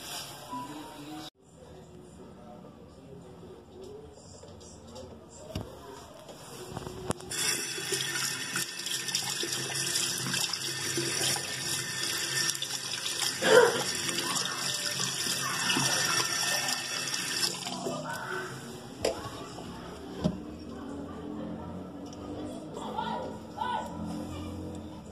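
Cold water runs steadily from a tap into a sink during a plumbing test by a handyman, a continuous hiss that swells louder in the middle and then settles into splashing and dripping, with no talk.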